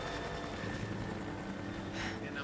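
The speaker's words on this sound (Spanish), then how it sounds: "Y nada más el helicóptero." Helicopter in the video game Rise of the Tomb Raider, a steady rotor thrum with rhythmic blade chopping that stays loud and close throughout, with no voices over it.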